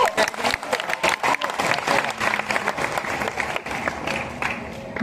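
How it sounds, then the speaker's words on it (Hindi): Audience applause and crowd noise at a university Teachers Day celebration, with dense continuous clapping that holds steady throughout, sounding close and energetic. "गाइस, तालियां बजती रहनी चाहिए।"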